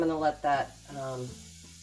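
Steady sizzling hiss from a pan heating on a medium stovetop burner while something melts for scrambled eggs, running quietly beneath a nearby voice that talks throughout.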